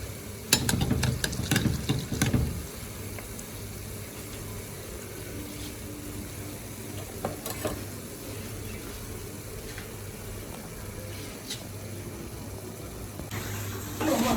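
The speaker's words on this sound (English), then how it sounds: "so let's allow this fry. And see how beautiful this looks. It's getting fried golden brown." Nigerian puff puff dough frying in hot oil, a steady low sizzle running throughout, with a few louder clattering stirs near the start and occasional soft clinks, no talking.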